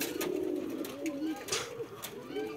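Pigeons coo at a breeding loft during courtship, soft repeated throaty calls rising and falling close by over a steady background hum, with a few sharper chirps mixed in.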